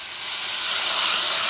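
Water steaming in a hot covered pan with an egg, a steady airy hiss that rises slightly and stays constant, alone without talking.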